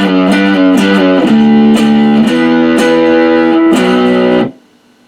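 An electric guitar plays a riff in loud, distorted power chords, sliding between chord shapes in a chugging rhythm before ringing out and stopping abruptly.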